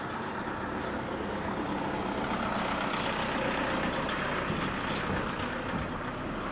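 A vehicle rumbles steadily through a continuous broadband engine and road wash, fairly distant and even in level, with no talk over it.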